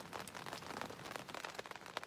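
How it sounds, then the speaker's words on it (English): Rain pattering on a tent at a campsite at night, a dense, close, continuous drumming of drops on fabric with a scattering of sharper individual hits. "here comes the rain"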